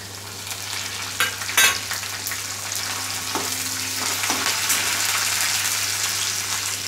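Mustard seeds, cumin, crushed garlic and curry leaves fry in hot oil with a continuous crackling sizzle, a few sharp spoon scrapes and pops, and a low steady hum beneath.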